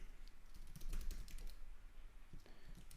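Someone types a terminal install command on a computer keyboard, a quiet close run of quick key clicks with a slight pause in the middle before a few more taps.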